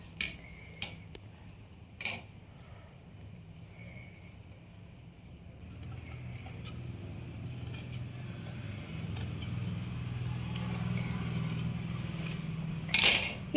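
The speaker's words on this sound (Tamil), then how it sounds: "இப்போ இது ஆம்கோல் வெட்டி தூர எடுத்துக்கலாம்" Tailoring scissors cut the armhole of blouse cloth in a few sharp metallic snips, then a long soft run of fabric cutting with faint rustling, ending in a loud close clink of the blades.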